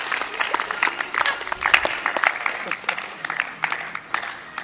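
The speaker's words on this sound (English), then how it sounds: "Let's give her a round of applause." Crowd applause for Olympic gold medalist Amy Cochran, a scattered, uneven patter of clapping with individual claps standing out, fairly close, with some voices mixed in.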